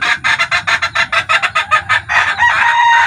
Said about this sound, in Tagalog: So ito pala yung ating ibinibreed sa Texas na kulay puti, si Kasipag.